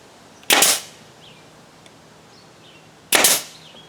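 Two sharp, loud nail-gun shots spaced a few seconds apart, fixing the corners of a wooden frame for wedding table centerpieces, with quiet room tone between them.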